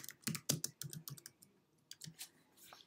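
Bursts of keystrokes on a computer keyboard, close and fairly quiet, in uneven clusters with short pauses between them, no voices.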